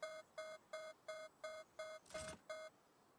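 Palworld video game beeps: a quiet, evenly spaced series of eight short tonal electronic beeps, with a brief whooshing burst cutting across near the end.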